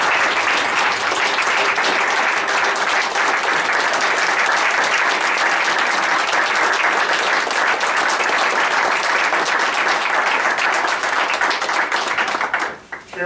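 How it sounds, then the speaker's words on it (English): Sustained, dense applause fills a board of trustees meeting room, steady and loud for about thirteen seconds before tapering off abruptly at the end. "So I'd like to just give you a round of applause."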